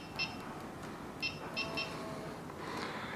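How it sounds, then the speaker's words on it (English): Short electronic beeps from a NordicTrack S22i studio cycle's resistance buttons ring out a few times, one single and then a quick pair, over a steady quiet background hum. "if you press these, it gives you a beep"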